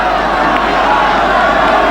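A large Argentinian football crowd cheers at a 1995 Copa America match against Chile, a loud, dense, continuous roar that fills the stadium with no pauses.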